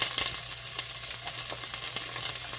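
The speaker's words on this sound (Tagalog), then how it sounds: "In here, we will add ghee butter" Ghee butter sizzling in a pan for mandi rice, a bright crackling fry with frequent small pops and a low hum underneath, steady and close.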